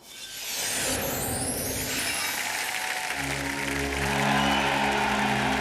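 An ice rink crowd stands stamping and cheering after a Torvill and Dean ice dance, a dense roar of noise swelling steadily, with a sustained musical tone joining partway through.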